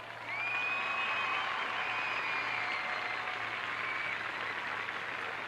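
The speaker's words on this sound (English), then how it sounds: "how about another great round of applause for the 1987 Jefferson homecoming royalty?" Steady applause from a 1987 Jefferson homecoming football game crowd, a sustained, dense wash of clapping held for several seconds at an even, moderately loud level.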